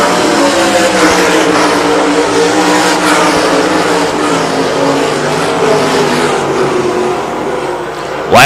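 Sprint cars roar around the track in a Great Lakes Sprint Series race at I-96 in Michigan, a loud, sustained engine drone with shifting pitch as cars pass, steady throughout.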